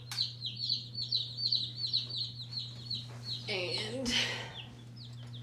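Many small mail-order chicks peep in rapid, repeated chirps under a steady electrical hum, with a brief voice briefly speaking over them.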